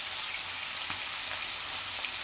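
Fish fries in oil in a kadai wok, giving a steady, dense, close sizzle and crackle throughout, with no voices.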